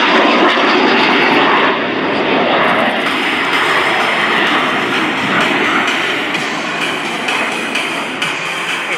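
An M-346 Master jet trainer flies a display at RIAT 2024, its engine roar loud and continuous throughout, a broad steady rush with no break.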